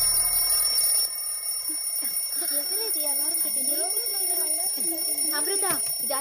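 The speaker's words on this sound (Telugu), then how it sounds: "అమృత, ఇది అలారం పెట్టుకొని ఆడుకునే టైం అంటే ఇది." An alarm rings steadily with a tonal electronic beeping through a tense Telugu movie scene, while someone talks loudly over it.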